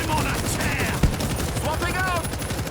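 Rapid automatic gunfire in the video game World War Z, a dense run of shots with one sharp heavier crack, while a voice talks over the shooting.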